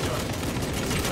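Rapid grenade launches in the Warhammer 40k Space Marine 2 video game during a co-op fight against a Tyranid swarm, a dense, loud, unbroken barrage of blasts and booms.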